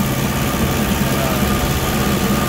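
A small homemade-chained tractor engine idles steadily on a cold snowy evening in the mountains, a loud continuous low rumble with even vibration and no talking.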